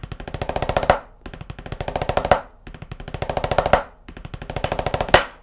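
Four quick snare drum 15-stroke rolls, each a rapid burst of crisp strokes that builds to an accented final hit, separated by short pauses.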